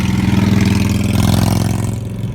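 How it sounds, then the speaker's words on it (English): A loud motorcycle engine runs steadily with a deep, throbbing low rumble, easing off slightly toward the end. "yeah, loud motorcycle"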